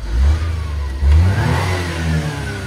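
A Suzuki Carry mini truck engine revs up twice in quick succession close by, a rough, buzzy small-engine drone swelling and settling between the bursts, with no talk over it.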